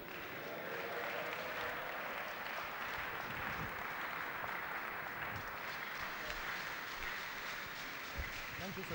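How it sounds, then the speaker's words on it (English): Continuous, fairly quiet applause from an Anglican church gathering, steady crowd clapping with murmured voices underneath throughout. "Another round of applause to our Baba, the President of Synod"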